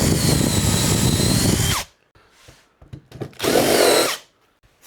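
A power drill bores a hole into wood in a guitar body build, running in a loud sustained burst, stopping, then a few short bumps and a second shorter burst before falling quiet.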